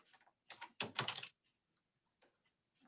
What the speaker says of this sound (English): I'm typing it in here for you.